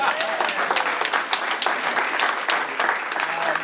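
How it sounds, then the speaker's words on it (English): Audience applause at a school board meeting, dense clapping from a room of people sustained throughout, fairly loud and close, with a voice briefly audible beneath it. "That's worth the applause right there."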